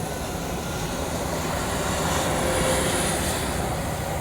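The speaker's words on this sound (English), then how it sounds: "Passenger train." Steady, loud rumbling roar of a passenger train passing nearby, a broad continuous wash of noise with a faint high whine on top.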